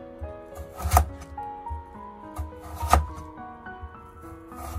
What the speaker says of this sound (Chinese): 最后改刀切成粗粗的长条